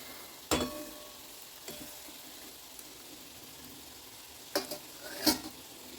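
Bread rolls fry in hot oil with a faint, steady sizzle, broken by a few sharp utensil knocks and clinks near the pan.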